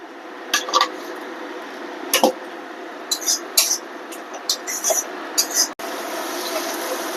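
Spice paste with tomato, a little water and sugar being stir-fried in a pan for a fish roe curry. Sharp metal-on-pan clinks and scrapes come in irregular bursts over a low steady background, with no talk.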